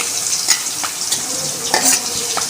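Sliced onions fry in hot oil in a pan for a rohu fish curry, a bright continuous sizzle with a few spoon scrapes over a short stretch.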